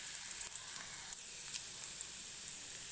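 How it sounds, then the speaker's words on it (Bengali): Chopped garlic and a dry red chilli frying in hot oil give a steady, soft sizzle that holds evenly throughout, close and alone with no talking. "রসুনটাকে একটু ভাজা ভাজা করে নেবো, রসুনের কাঁচা গন্ধটা কেটে যাবে"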